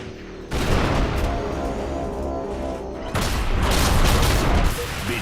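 Sustained heavy gunfire in a video game erupts suddenly into a loud, continuous barrage of booming shots, briefly dipping before surging again and then easing off at the end.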